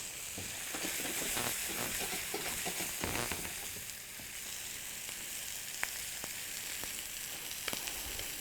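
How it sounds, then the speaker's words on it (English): Chopped shallots frying in the juices of a steak pan, a steady close sizzle with faint stirring scrapes throughout and no voices. "at this time, we want to add our shallots"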